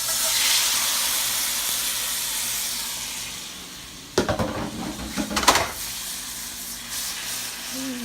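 Shrimp for tostadas hit a hot pan with a steady, hissing sizzle that fades slowly, followed by a few clattering knocks of utensils or cookware against the pan.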